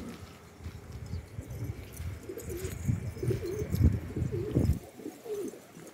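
Pigeons in a loft coo in low, repeated throaty calls, several birds overlapping in a soft, continuous murmur close by, with occasional rustling and no talking.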